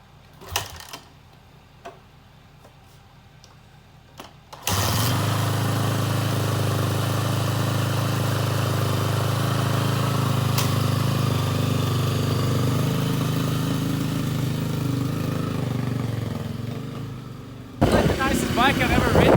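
A Kawasaki KLX110L pit bike with a dead battery is started after a few ticking clicks, then idles loud and close in a steady, slightly high buzz for several seconds before stopping abruptly.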